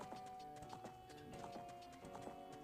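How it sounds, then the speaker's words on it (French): Horse hooves clip-clopping in the video game Zelda: Ocarina of Time, a steady trotting rhythm of soft hoof beats over game music, fairly quiet. "Là, il y a un cheval qui..."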